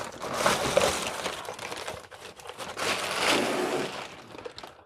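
Hands rummaging through a plastic bag of Dendy Junior game console accessories, with crinkling and rustling plastic in two bursts of activity separated by a brief lull, close to the microphone.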